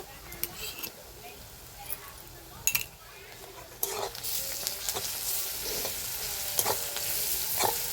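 Finely pounded garlic and lightly browned onion fry in a pan for okra masala, with a steady close sizzle that swells louder midway and is broken by a few sharp stirring scrapes.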